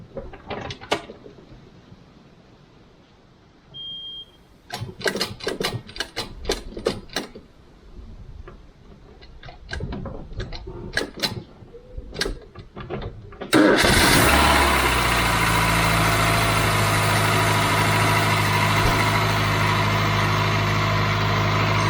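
A Ford Cortina Mk3 with a blown head gasket cranks in a long run of short, uneven bursts, then catches with a loud surge and settles into a steady, rumbling idle.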